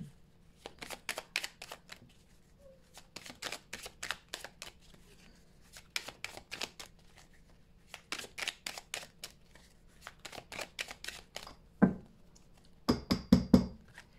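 Repeated bursts of cards being riffled and shuffled, quick crisp flurries with short pauses, ending in a few sharper taps and snaps.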